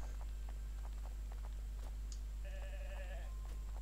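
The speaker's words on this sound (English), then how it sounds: "Don't mind the sheep." Sheep in the farming video game Garden Paws bleat briefly once or twice, mid-level and fairly close, over a constant low game hum with light footstep-like clicks and no talk.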